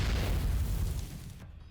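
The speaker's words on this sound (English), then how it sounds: "The guard post takes a direct hit" A direct artillery hit on a guard post, a heavy booming blast that starts loud and then rumbles away over about a second and a half, with no talk.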